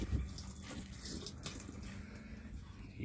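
Old fluid drains from the engine of a 1973 Jeep Commando with a 304 V8 that sat unused for years, a steady, faint, close trickling pour running unbroken without talk.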